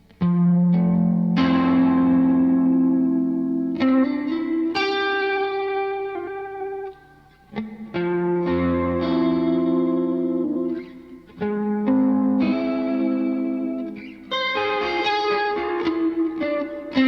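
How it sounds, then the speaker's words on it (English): Hologram Chroma Console effects unit adding reverb to sustained guitar chords, lush washed-out tails ringing and blending between strummed changes, loud and steady with no talking. "Put a reverb into it."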